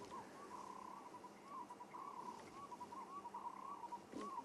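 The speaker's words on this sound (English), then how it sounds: "That's a black collared barbet." A black-collared barbet's repeated rhythmic call in a quiet outdoor setting, soft and somewhat distant, several phrases in quick succession.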